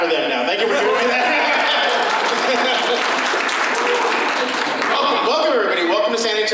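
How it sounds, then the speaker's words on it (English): Convention crowd clapping and cheering for an anime voice cast at a fan panel, loud sustained applause with whoops and chatter mixed in, a voice rising over the noise toward the end. "Okay, now y'all can clap for them now."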